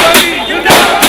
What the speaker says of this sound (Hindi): आत्मचिंतन से लौटे राहुल का उनके समर्थकों ने पटाखों के साथ स्वागत किया